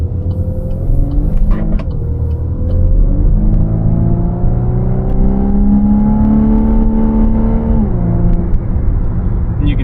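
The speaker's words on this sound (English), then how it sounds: "it's definitely a synthetic noise" Volkswagen Atlas SE in sport mode accelerating with synthetic engine sound, a loud rising drone that climbs steadily in pitch, drops briefly, and climbs again, with no talk over it.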